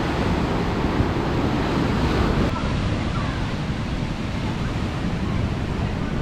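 Ocean surf rolls steadily along the Sunshine Coast in Australia, a continuous washing roar with wind buffeting the microphone, no voices present.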